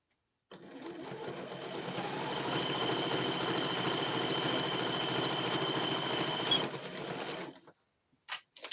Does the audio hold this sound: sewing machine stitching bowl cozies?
yes